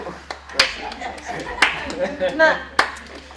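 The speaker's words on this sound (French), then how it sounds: "On peut l'applaudir." A small theatre audience at an amateur play gives a few brief, sharp bursts of clapping, separated by short gaps, with talk mixed in between the claps.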